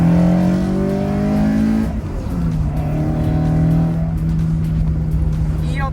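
A Toyota AE86 Hachiroku with individual throttle bodies pulls hard from second gear, its engine note climbing steadily, then easing briefly at a shift before rising again, loud and close from inside the cabin.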